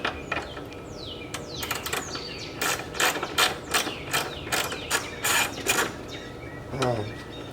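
Hand ratchet clicking a nut onto a grounding block on a 2003 Land Rover Discovery's negative battery cable, a rapid run of sharp close clicks in quick strokes with brief pauses.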